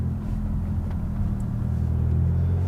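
Low, steady engine drone of a Maserati MC20 supercar heard from inside the cabin while cruising in manual mode, a continuous near rumble with no talk.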